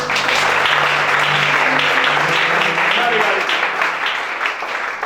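Loud sustained applause fills a church deliverance service, a dense wash of clapping from the congregation with voices calling out beneath it.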